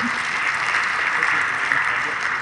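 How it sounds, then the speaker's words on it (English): Conference attendees clapping at the closing session of a water science symposium, a steady wash of applause from a room of people, moderately loud and continuous throughout. "Please a clap to all of us who managed to attend."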